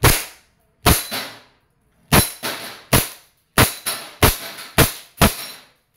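WE M-92 airsoft pistol firing during a shooting test, nine sharp snapping shots in an uneven rhythm, close and loud, each with a short ringing tail.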